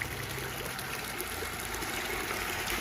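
Water trickles through the filter of a red tilapia aquarium tank in a steady, faint, continuous wash with no voices over it.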